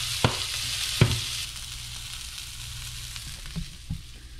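Onions frying and caramelizing in a pan give a steady low sizzle, with a few soft knocks of a utensil against the pan, close and alone, without speech.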